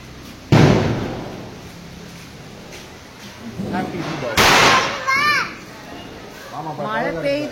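Firecrackers burst during Diwali celebrations, with two sharp, loud bangs several seconds apart ringing out among children chattering and shouting nearby.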